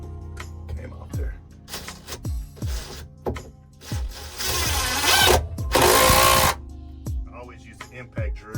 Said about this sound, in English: I always use the impact drill because that's better for it